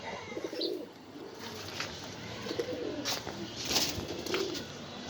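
Pigeons kept for sale, including a pair sitting on eggs, coo softly in low, throaty bursts repeating every second or so against a busy background of faint chirps and noise.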